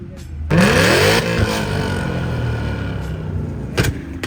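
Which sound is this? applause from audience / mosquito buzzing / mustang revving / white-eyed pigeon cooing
mustang revving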